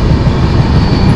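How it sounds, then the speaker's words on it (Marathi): Low, steady rumble of a passenger train rolling along the rails, a dense, even drone that fills the whole brief stretch with no voices. "आम्हाला असं वाटतं आलंय कारण ट्रेन स्लो झालेली"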